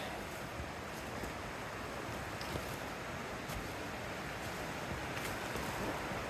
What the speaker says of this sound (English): The creek's not very high this time of year, but it is still flowing.